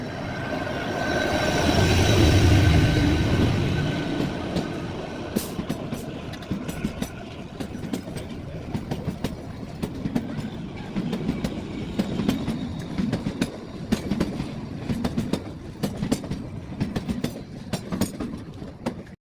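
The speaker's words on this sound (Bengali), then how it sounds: "তারাদেবী থেকে আমাদের ট্রেন ছাড়লো এখন 4:55" The Shimla toy train, Him Darshan Express with its vistadome coach, pulls out of Taradevi station on its mountain line. A loud rushing swell comes first, then a steady run of close, rhythmic wheel clacks and rattles.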